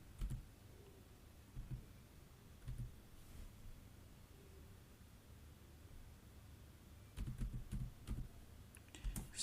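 Faint, quiet keystrokes on a computer keyboard as a title is typed, a few scattered clicks early on, then a quicker burst of typing near the end over soft background hiss.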